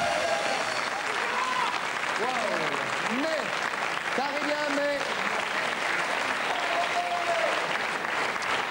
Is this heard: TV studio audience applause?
yes